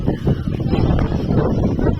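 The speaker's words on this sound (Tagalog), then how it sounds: "Naririnig niya yung hangin." Steady wind buffeting the microphone, a continuous low roar with gusty fluctuations and no distinct pauses.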